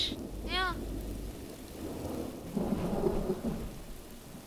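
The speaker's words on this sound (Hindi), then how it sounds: "देखो तो बारिश" Heavy rain hisses steadily throughout while a low rumble of thunder swells midway; a brief chirping sound appears near the start.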